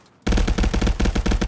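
Rapid automatic gunfire from the VR shooter Contractors, a loud continuous burst of closely spaced shots lasting over a second after a brief quiet start.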